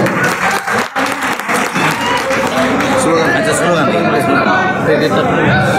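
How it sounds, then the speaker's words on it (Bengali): A crowd at a political party gathering in Bangladesh claps to welcome newly joined members, steady dense applause with background chatter and voices mixed in throughout. "আমরা করতালির মাধ্যমে তাদেরকে স্বাগত জানাই"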